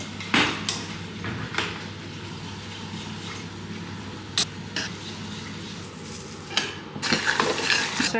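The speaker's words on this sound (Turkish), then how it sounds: "çorbadan alıp yavaş yavaş ekleyeceğim" Hot soup is ladled slowly into a mixture and stirred in a pot, giving soft scraping and clinking of a utensil with gentle liquid swishing, close and moderately quiet, occasional louder knocks.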